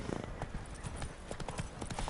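Roach the horse in The Witcher 3 trots along with steady, rhythmic clip-clop hoofbeats over a dense game soundscape, moderately loud and continuous.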